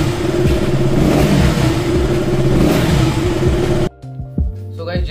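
A KTM sports motorcycle engine revs loudly and steadily, then drops abruptly to a rough idle with a few blips of throttle near the end.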